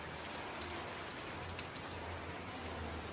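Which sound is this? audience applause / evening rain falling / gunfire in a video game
evening rain falling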